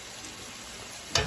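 Salmon fries in a hot pan with a steady, close hiss and crackle, ending in a short, louder sizzling burst as the fish goes in.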